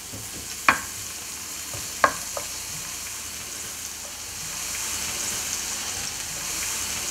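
Onions frying in a small amount of oil for Ethiopian tibs, with two sharp stirring scrapes near the start over a steady sizzle that builds and continues alone without talk.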